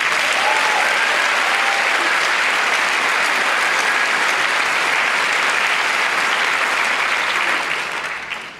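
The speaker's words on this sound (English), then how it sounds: "So I think we need to give ourselves a round of applause." A large audience applauding loudly and steadily for several seconds, dense clapping that fades out at the end.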